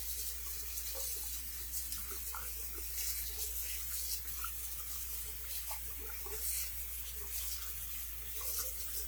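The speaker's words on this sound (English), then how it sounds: "now just on some cold water here, I'm going to rinse the garment out just with any of that extra product" Cold tap water runs steadily into a sink while a vintage wedding dress is rinsed, giving a continuous, fairly quiet splashing flow with soft rubbing and handling of wet fabric.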